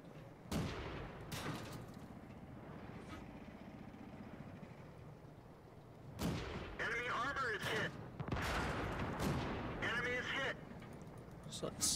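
Tank cannon shots in World of Tanks ring out as several sharp, loud booms with rumbling tails, spaced apart over a steady battlefield engine drone, while someone talks over much of it.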